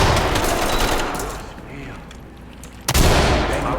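In the video game Ready or Not, a flashbang grenade goes off: a clattering burst of noise dies away into a quieter stretch, then a sudden sharp bang lands near the end.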